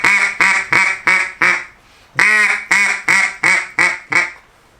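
A duck call blown in a comeback sequence gives loud, rapid quacks in two runs of about five or six notes each. Each run steps down from high to low, and a short pause separates them.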